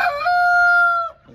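A Brahma Polaco rooster gives a single loud crow close by, a drawn-out call held steady for about a second before trailing off.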